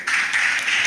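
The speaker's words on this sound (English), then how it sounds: "Let's give ourselves a big round of applause." Short burst of audience applause at a mathematics quiz contest, steady dense clapping from a crowd, fairly close and even throughout.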